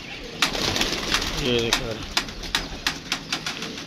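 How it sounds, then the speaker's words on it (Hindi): Young and adult pigeons coo softly nearby, with scattered sharp taps and flutters, while someone talks over them. "ये देखें इनमें कुछ बच्चे हैं कुछ बड़े हैं कबूतर और लगे हुए हैं मस्तियों में।"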